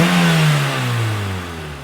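A loud, close engine of a 2000s hot hatch with an aftermarket InGen intake revs up and then winds down with a throaty intake roar, its pitch falling steadily as the revs drop.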